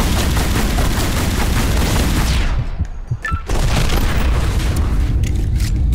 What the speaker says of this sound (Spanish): Estoy echando a hacer disparos críticos de estos